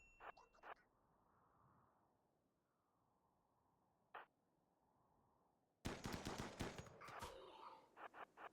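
Gunfire in the colony game RimWorld: a few quick clustered shots at the start, a lone crack midway, then a dense loud burst of rapid fire through the last few seconds over a low ambient hum.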